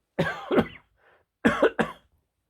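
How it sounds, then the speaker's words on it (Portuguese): A person coughs in two pairs of harsh, close bursts separated by a short pause, with no talking. "Desculpa, eu vou tossir."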